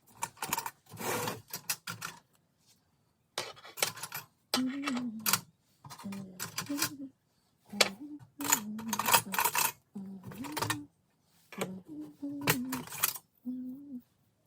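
A box of vintage wrenches and a ratchet being unpacked: repeated metallic clinks and clatters of tools knocked and shifted against each other come in bursts with short pauses, close and fairly loud, with a voice talking between them.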